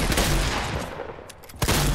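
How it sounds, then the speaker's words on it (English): Shotgun shots in a Fortnite-style building shooter video game, a dense burst of loud blasts and gunfire in quick succession, then a short lull and another sharp shot near the end, no talking. "Three shots from the shotgun"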